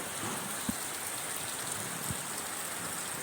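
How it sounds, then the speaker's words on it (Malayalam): Monsoon rain falling in Kerala, a soft, even wash of steady patter with a couple of faint low thuds, heard alone without voices. "കാലവർഷം കേരളക്കരയിൽ കേരളത്തിൻ്റെ ആകാശത്ത് എത്തിയിരിക്കുന്നത്"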